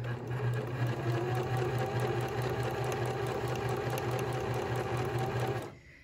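A sewing machine stitching fabric for a flat iron case runs in a close, steady, loud mechanical whir for about five and a half seconds, then stops.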